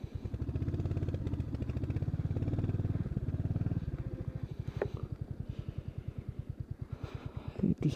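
A motorcycle engine runs steadily and close up, its low rhythmic thumping loud at first and then easing off into a looser, quieter chug, with a brief clatter and some voice in the background. The bike is ridden through water on the road from Pangong to Hanle.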